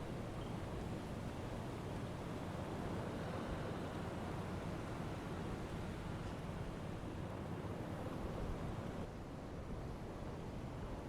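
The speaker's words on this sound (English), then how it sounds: "It's a bit choppy, the water" Choppy open-sea waves wash around a U-boat in the submarine game UBOAT, a steady broad rushing surf with wind, constant and loud throughout with no voices.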